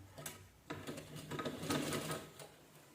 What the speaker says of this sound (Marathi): हे बरोबर का सारलेलं आहे आणि ह्याच्यानं शिलाई करून घेऊया